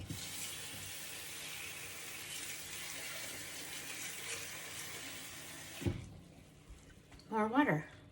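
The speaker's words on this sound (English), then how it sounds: "What I'm going to do is fill it up with more water." A tap runs steadily into a sink, filling it with water for washing leeks, a loud continuous rushing stream that cuts off near the end, followed by brief talk.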